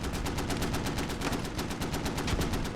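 Gunfire in the military shooter Squad, a dense rapid string of shots rattling continuously at steady volume for the whole stretch, somewhat distant and unbroken, without speech.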